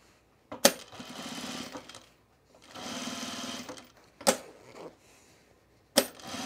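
A sewing machine stitches thick foam-lined fabric for a baby bag in short bursts of rapid whirring, separated by pauses and sharp clicks.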